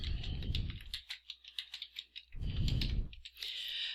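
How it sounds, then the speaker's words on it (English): Notes go in on a computer keyboard: a quiet run of quick, uneven key clicks close by in a calm indoor setting. "I can come down here and I can type notes about this document"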